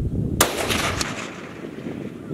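A single sharp rifle shot cracks out close by during a water buffalo hunt in Australia, followed by a short echo that fades over the next two seconds.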